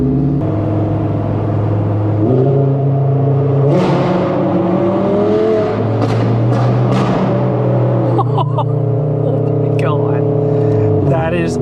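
A Lamborghini Huracán engine rumbles at a low, steady idle with slight pitch shifts on a highway drive, while people talk over it.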